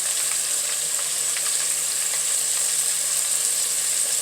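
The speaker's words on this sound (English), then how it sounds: "And I'm deep frying it because the wings are rather on the big side" Steady hiss and crackle of hot oil deep frying large chicken wings, a continuous bright sizzle with small pops, no voices.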